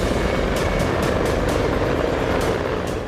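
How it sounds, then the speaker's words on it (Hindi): A Russian Navy Mi-24 Crocodile helicopter patrols off the Alupka coast, its steady loud rotor and engine roar filling the air with a rhythmic blade chop throughout. "अलुप्का तट पर रूसी नौसेना के Mi-24 क्रोकोडाइल हेलीकॉप्टर गश्त लगा रहे हैं।"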